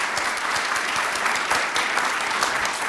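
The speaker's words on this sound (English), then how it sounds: "Please join me in giving them a big round of applause." Loud, dense applause from a conference audience for a panel at a digital innovation event, a continuous even roar of many hands clapping close by with no pauses.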